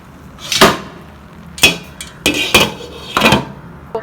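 A metal lid is set onto a pot of Kashmiri shahi pulao vegetable biryani rice, giving four sharp, ringing clanks spaced irregularly, close and loud, with quiet gaps between.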